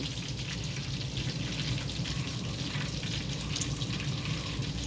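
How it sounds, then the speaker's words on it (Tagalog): Chicken deep-fries in hot oil with a steady, dense crackling sizzle that holds constant and close throughout, with no voices. "Ganyan po mag-deep fry ang mga Pilipino ng chicken."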